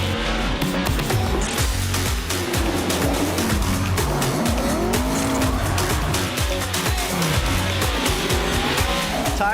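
Drift car tires squealing on the Long Beach track during a Super Drift Challenge event, with the engine roaring and tires screeching continuously, loud and close throughout.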